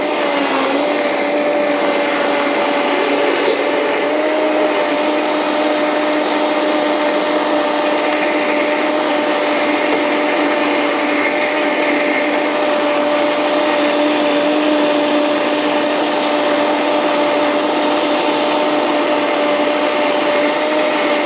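Blender mixing a smoothie, a loud, steady whirring motor whine that holds unchanged from start to finish with no talking.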